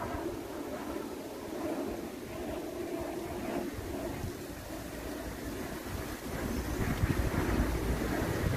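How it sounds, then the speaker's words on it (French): Wind blows steadily outdoors, buffeting the microphone with a continuous rumbling rush that strengthens toward the end. "Un peu de vent aujourd'hui, ça c'est clair."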